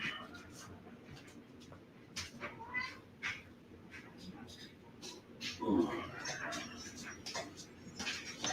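Cat named Diva meowing in short, repeated calls near the listener, with one louder, drawn-out meow midway, while a person's voice is heard speaking softly in between.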